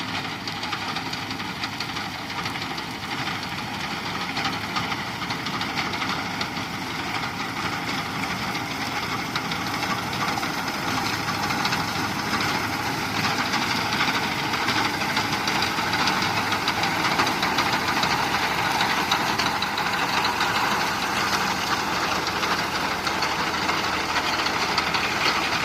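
A 1990 Fiat 640 tractor engine runs steadily with a dense, knocking diesel rumble, loud and close, unchanging throughout without any talk.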